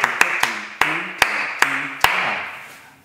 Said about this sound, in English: Why don't you clap this with me?